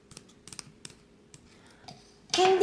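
Scissors snipping plastic net mesh for a handmade candy keyring: a quick series of soft, close clicks and snips, fairly quiet, ending in a brief louder burst of noise.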